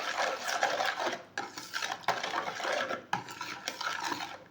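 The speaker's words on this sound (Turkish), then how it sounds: "Ve mayamın aktifleşmesi için diğer malzemelerimi almadan önce bir karıştırıyorum" A spoon stirs a yeast and milk mixture in a bowl for Turkish poğaça dough, producing steady scraping and clinking against the bowl in repeated strokes, close and clear with no talking.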